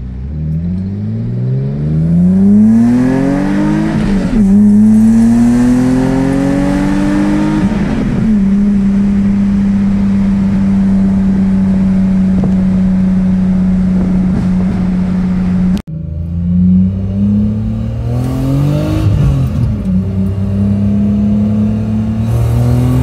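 A BMW E34 535i with its M30 inline-six and a flipped intake manifold revs up and falls back several times, loud and close, settling into a steady held drone between the revs.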